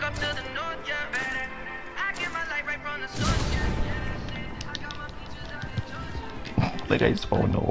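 Horse galloping in the video game Red Dead Online, with rapid hoofbeats that turn louder and denser partway through, mixed with game sounds and a person talking over them.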